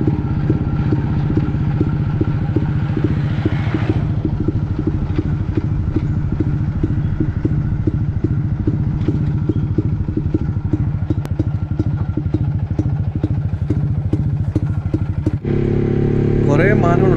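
A motorcycle ridden along a road toward the Kerala–Karnataka border, the engine's steady throbbing drone loud and close for most of the ride, with a brief break and shift near the end.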